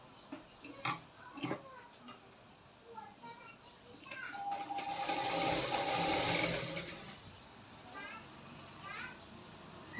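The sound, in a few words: sewing machine stitching a blouse sleeve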